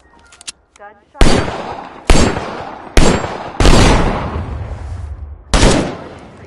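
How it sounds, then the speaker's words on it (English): Gunshots in The Culling II ring out as a series of loud, separate blasts, five or so spaced about a second apart, each trailing off in a reverberant decay, with a brief faint sound before the first. "gunshot"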